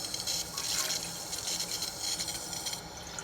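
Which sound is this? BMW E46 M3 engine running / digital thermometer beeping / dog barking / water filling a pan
water filling a pan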